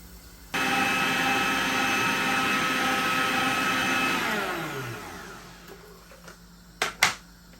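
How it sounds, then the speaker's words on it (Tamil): An electric hand mixer whirs steadily as it beats egg whites and yolks for a vanilla cake batter, running loud and continuous for several seconds before winding down, followed by a couple of sharp knocks. "முட்டை வெள்ளைக்கரு நல்லா அடிபட்டுடுது இப்போ இதுக்குள்ள மஞ்சள் கருவையும் விட்டு அடிக்க போகிறோம்"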